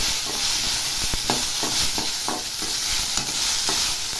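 Mint leaves fry in a pan over a medium flame for chutney, a steady loud sizzle broken by regular scraping strokes of a spoon stirring roughly every half second.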